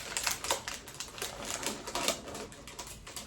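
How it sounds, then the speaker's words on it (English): Sterile drape package paper being pulled apart by hand, a crinkly series of papery crackles and tears in quick bursts, close and fairly quiet, with no talking. "So we're going to open it, pull the paper apart."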